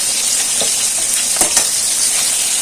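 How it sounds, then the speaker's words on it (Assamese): Onions and two green chillies sizzle steadily in hot oil, a continuous bright crackle with a few soft pops, no talking. "এইখিনি ভালকৈ ভাজি ল'ম পিঁয়াজখিনি"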